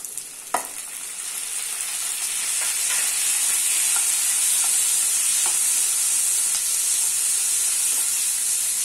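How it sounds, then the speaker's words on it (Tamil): Tomatoes fry with onion in a pan for tomato chutney, making a steady hissing sizzle after an initial clink, with a few light stirring taps and no voices. "தக்காளி நல்லா வதங்கி வரட்டும்"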